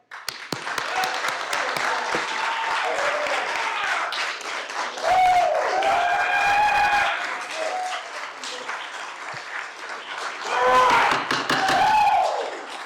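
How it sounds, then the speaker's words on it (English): Loud, sustained clapping from a crowd at a council meeting, standing in support of volunteer fire departments, continuing throughout with cheers and shouting voices rising over it. "please stand proudly and clap loudly"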